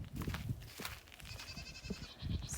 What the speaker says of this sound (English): Sounds like the goats want me to go feed them